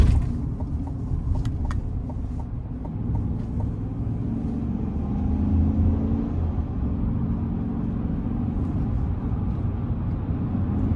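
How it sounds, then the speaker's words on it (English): Cabin drone of a 2023 GMC Sierra 1500 SLT X31 with the 5.3-liter V8, driven in sport mode while shifting gears, a steady low engine and road rumble that swells and eases slightly as the revs change. "Now the downshifts are relatively fast with this when you flop shift, but the upshifts just are not as aggressive even in the sport mode."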